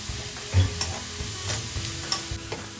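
Vegetables roasting in a pan for high-protein pasta give a soft, continuous sizzle, with a few dull stirring scrapes and knocks spaced through the short stretch, close by and with no talk.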